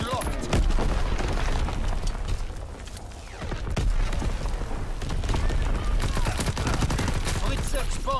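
An artillery strike killstreak in Call of Duty WW2 brings a dense run of explosive booms and crackling impacts, with heavy thuds rolling through continuous battlefield noise for several seconds.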